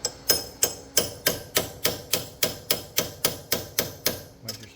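A hammer gives about thirteen evenly spaced, sharp metallic taps, close and loud, driving an H6 hex socket onto the front strut stud of a 2003-2009 Toyota Prius, with no talking.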